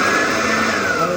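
A kitchen mixer grinder runs on its lowest speed setting, giving a continuous dense whirring drone with no pauses, loud and close.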